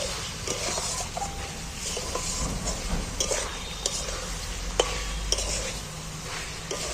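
Eggs being stir-fried with spices in a pan: a steady, close sizzle, interrupted by scraping and light clinks of a utensil against the pan, with faint murmuring in the background.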